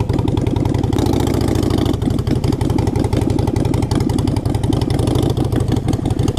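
A 2017 Harley-Davidson Street Rod 750 motorcycle engine runs close and loud at an uneven, throbbing idle with a brief rise in revs near the start, alone without talk.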